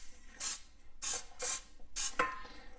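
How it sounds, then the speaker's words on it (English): Four short bursts of Baker's Joy non-stick aerosol spray hissing onto baking pans in quick succession, close by, with brief quiet gaps between them. "So we just lightly spray our pans."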